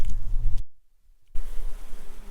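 Honey bees buzz around an open hive while a colony is being split. A loud, close drone gives way to a brief silent gap, then the buzzing returns at full strength.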